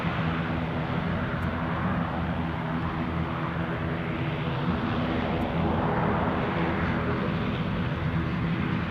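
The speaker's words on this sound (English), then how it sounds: "Got a Ryanair something or other taxiing behind the." A Ryanair airliner taxiing at Edinburgh Airport, a continuous broad jet engine roar with a low droning hum, steady and moderately loud at a distance, with no voices.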